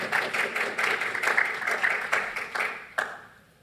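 Polite applause from a press conference audience at a Diamond League athletics event in Gateshead: steady moderate clapping from a small crowd for a few seconds, one sharper clap near the end before it tapers off.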